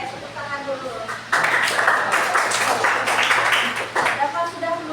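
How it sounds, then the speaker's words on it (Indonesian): Students in a classroom clap their hands in a burst of applause lasting a few seconds, with a teacher's voice speaking before and after the clapping. "Tepuk tangan dulu."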